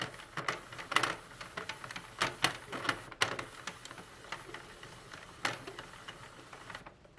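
A Sentro knitting machine is hand-cranked slowly, giving a quiet, irregular series of plastic clicks and clacks that continue at close range without speech.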